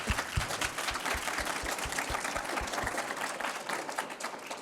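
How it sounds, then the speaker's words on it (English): Audience applause at a conference talk, with steady crowd clapping and distinct rhythmic beats as some people clap in time, fairly soft and lasting several seconds. "I think we definitely owe you a round of applause for your commitment."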